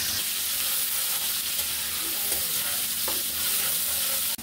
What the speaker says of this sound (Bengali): এখন পেঁয়াজগুলোকে ভেজে নিব।